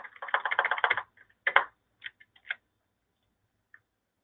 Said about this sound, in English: you can start typing away